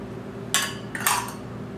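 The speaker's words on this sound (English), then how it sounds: "You're going to do a quick mix on all of your dry ingredients" Cornmeal, flour, salt, sugar and baking soda being mixed in a bowl, heard as two quick bursts of utensil scraping and clinking against the bowl over a steady background hum.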